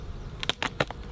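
A beehive glued shut with bee propolis being pried open with a hive tool, giving a few sharp, brief cracking snaps close by over a low background hum.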